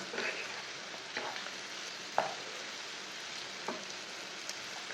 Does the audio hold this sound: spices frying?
yes